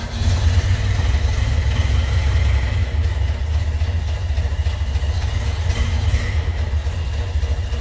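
A 1931 Ford Model A pickup engine runs at idle, a loud, close, steady low chugging rumble with a regular pulsing beat and no talk over it.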